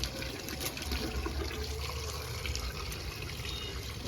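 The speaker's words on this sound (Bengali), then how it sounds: "এটা একটু গঙ্গার জল দিয়ে নেবো মাথায়।" Ganges water pours over a person's head during a rooftop bath, a steady close splashing stream that runs unbroken throughout, with no voice.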